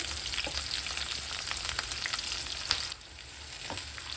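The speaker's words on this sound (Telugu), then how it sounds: "ఇవి లైట్ గోల్డెన్ బ్రౌన్ కలర్ వచ్చే వరకు ఫ్రై చేసుకుందాం ఆనియన్స్ మిర్చి" Sliced onions and green chillies fry in hot oil, giving a steady, dense sizzle with a few faint stirring touches, close and continuous.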